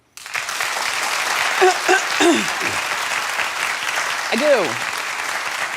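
Studio audience applauding loudly and steadily at a comedy talk, with dense clapping throughout and brief voices and whoops rising over it.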